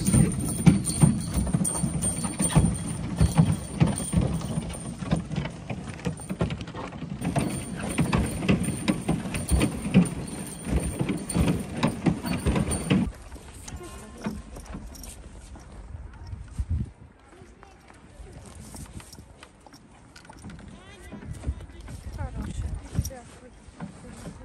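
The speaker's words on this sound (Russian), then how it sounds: "Впервые в жизни катаюсь на санях." Hooves clop steadily from a horse pulling a sleigh through snow, a near and continuous rhythm that carries on through the ride and fades somewhat in the second half, with someone speaking over it.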